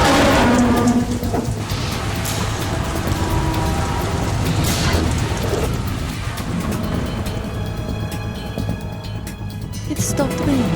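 Rain and thunder on the tanker deck in Metal Gear Solid 2, a loud, steady downpour hiss with rumbling underneath, heard alongside a voice talking.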